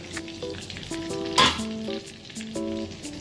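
Cinnamon sizzles in hot oil in a kadai before chicken goes in for butter chicken, a close, steady frying hiss with a few scraping stirs and one brief louder burst partway through.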